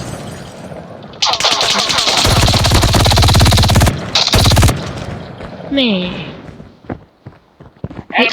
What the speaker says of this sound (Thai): ปืนจู่โจมไรเฟิลจู่โจม